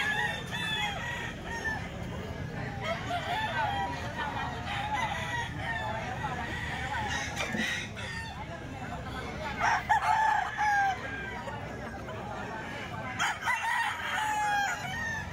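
A stag gamecock crows several times in a row, close and clear, over steady background noise, with some clucking and bits of human chatter.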